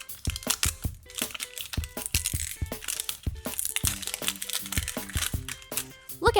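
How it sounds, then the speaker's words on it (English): A toy surprise package for an LOL doll is unwrapped by hand, with close, rapid crinkling and tearing of plastic wrap in irregular bursts throughout. "Let's unwrap some more to find our next surprise."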